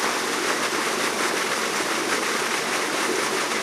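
A big pond aerator churns and splashes water in a steady, dense rush that fills the whole clip without a break, close by and constant with no voices.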